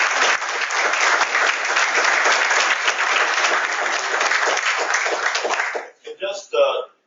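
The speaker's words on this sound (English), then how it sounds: "Let's give them another round of applause." A meeting audience at an NCITE section meeting applauds in a steady, dense wash for about six seconds, then the clapping stops and a voice speaks briefly.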